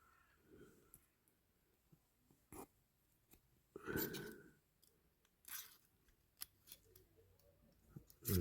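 Small parts are snipped to length during restoration of a Dinky Toys Atlas Copco compressor diecast model, with a handful of sharp, isolated cuts spaced apart against a quiet background.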